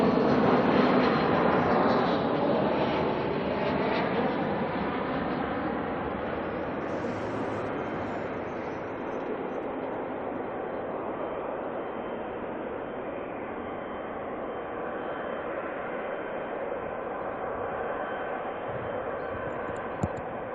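A Jetstar passenger jet, flight JQ131 from the Gold Coast, arrives at Auckland Airport with a loud, steady roar that fades slightly over about twenty seconds, continuous and unbroken by speech.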